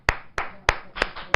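Audience clapping during a televised Hindi debate, five sharp, separate hand claps in a loose rhythm, close and crisp with no talk.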